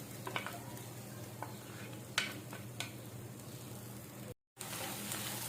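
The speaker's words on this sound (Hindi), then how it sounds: "हरी मिर्चें और लहसुन अदरक हमारा सौटे हो गया है" Green chilies, garlic and ginger sizzle steadily in a hot pan with scattered clinks and scrapes of stirring, ending with a brief cut to silence before the frying resumes.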